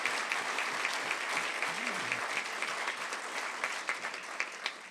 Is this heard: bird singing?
no